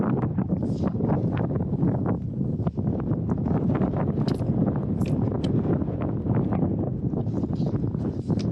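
Strong wind buffets the microphone from a kayak on Melvern Lake, Kansas. It makes a loud, continuous rumbling roar with gusty bursts and no clear speech.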